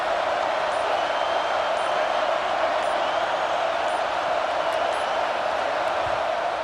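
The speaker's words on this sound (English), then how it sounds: "Decibels rising as the crowd gets behind this defense on 3rd down" A stadium crowd at a college-style football game roars steadily on a third down, a loud, dense, continuous wash of cheering and noise that holds level throughout.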